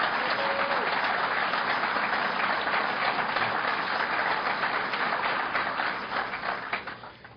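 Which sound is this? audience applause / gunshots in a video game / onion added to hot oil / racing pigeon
audience applause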